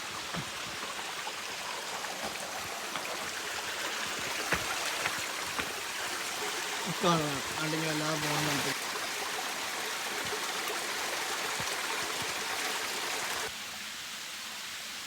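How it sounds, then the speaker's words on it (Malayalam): Water rushes in a steady broadband roar from a small waterfall in Wonogiri, Central Java, with a voice speaking briefly and a short whistling tone partway through. "ഇങ്ങനെ ചെറിയ വെള്ളച്ചാട്ടങ്ങൾ ഇങ്ങനെ വന്ന് പതിയുന്നൊരു സ്ഥലമാണ്"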